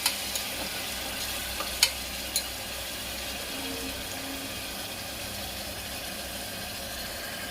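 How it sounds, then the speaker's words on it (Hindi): Onions frying in oil on a high gas flame make a steady, even hiss throughout, with a few brief clicks of a utensil near the start. "प्याज को बहुत अच्छी तरह से भूनना है, तेज गैस करके, हाई फ्लेम पर"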